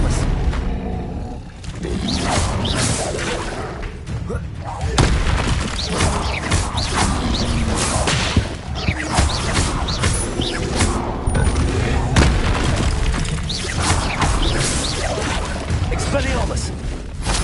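Expelliarmus spells blasting again and again in Hogwarts Legacy: loud booms and crashing impacts mixed with roaring effects over constant battle noise, with a voice talking over it.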